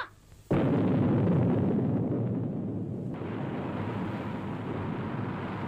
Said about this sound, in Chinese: 氢弹首次全当量爆炸试验